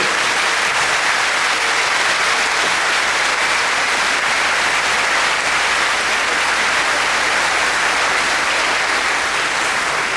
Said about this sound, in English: please stand up and give them a big round of applause